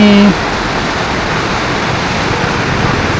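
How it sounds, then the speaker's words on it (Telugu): River water rushes over a large rock near Manali, a loud, steady, close roar of turbulent flow that follows a brief tone at the very start. "అక్కడ ఒక పెద్ద రాయి ఉంది, అందుకే వాటర్ అట్లా ఎత్తి పోరుస్తుంది."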